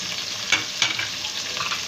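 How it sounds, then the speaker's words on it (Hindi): Onions dropped into very hot oil for chicken pulao give a close, bright sizzle with a couple of sharp crackling bursts over a steady hiss, no voices. "तेल गरम हो जाए, इसमें मैं प्याज डाल लेती हूँ।"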